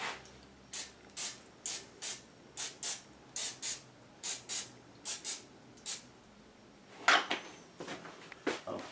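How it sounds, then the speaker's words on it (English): Olive oil cooking spray from a can is spritzed onto rolled-out pie dough in a long series of short, sharp hissing bursts, roughly a dozen evenly paced puffs, close and clear in a quiet kitchen. "let's give each of these a quick spritz"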